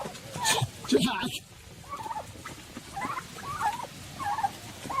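Farm turkeys gobble in short, warbling bursts, a few loud calls early, then a string of softer repeated gobbles at moderate distance.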